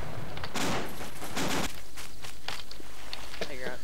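Gunfire in a military video game: a couple of heavy bursts of shots ring out early, followed by scattered single cracks and shuffling movement, with a voice speaking briefly near the end.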